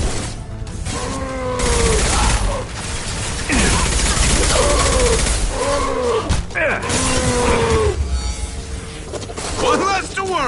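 Heavy sci-fi gunfire and crashing impacts from the Mass Effect 2 video game, loud and continuous, mixed with shouted voices and groaning over the combat noise.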